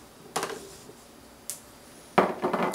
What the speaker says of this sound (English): First, I'm gonna chop it up, the celery, the carrots